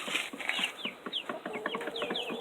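Young incubator-hatched chickens with feathered legs, their soft high peeping and small clucks repeating quickly and close by, with no talking over them.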